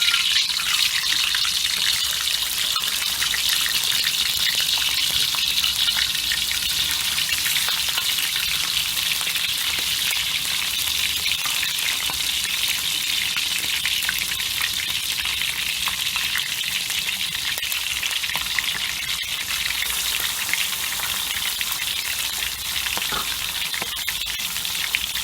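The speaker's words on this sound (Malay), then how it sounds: "Mula-mula kita gorengkan ikan." Fish frying in hot oil for a red snapper dish with green chili sambal, a steady, dense sizzle that holds loud and constant throughout with no talking.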